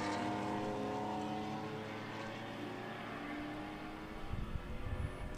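Two BMW and two Shelby Cobra Group 4 race cars roar past at a road-course grand prix, a loud continuous engine drone that holds steady, then thins as the cars pull away with scattered crowd noise.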